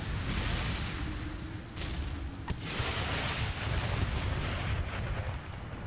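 An artillery barrage in Empire: Total War rumbles as dense, rolling booms and muffled blasts that overlap into a continuous low roar, with a few sharper cracks breaking through, heard at a distance and without speech.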